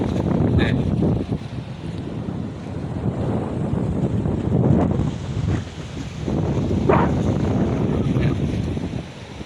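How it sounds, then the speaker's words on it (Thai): Sea wind blows across the beach at Cha-am, buffeting the microphone in loud, gusting rushes that swell and ease over a low background of surf. "มันมีลมทะเลพัดมาตลอด"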